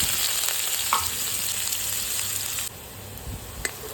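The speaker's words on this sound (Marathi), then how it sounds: "तेल तापलेलं आहे आपलं तर त्याच्यामध्ये आपण कटिंग केलेला कांदा टाकून" Chopped onion fries in a generous amount of hot oil with a loud, steady sizzle. Partway through the sizzle drops in level, and occasional light stirring taps follow. No one talks.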